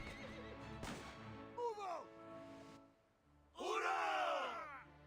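Cavalry horses in the video game Reverse 1999 whinny loudly in two long, wavering neighs amid a brief yell, with faint hoofbeats and a distant crowd shout beneath.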